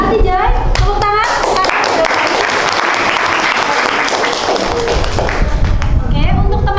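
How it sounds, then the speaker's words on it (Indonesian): Classroom applause from students clapping their hands, loud and close, a dense burst of claps that swells and then thins, with children's voices and a few thumps mixed in. "Tepuk tangan."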